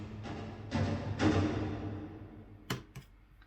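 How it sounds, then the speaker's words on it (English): Plucked plectrum strums from a Bunker Samples string library, a few sharp attacks with ringing low body and decaying tails, then two brief percussive hits near the end, fairly quiet with no talk. "We've also got some plectrum strums in here."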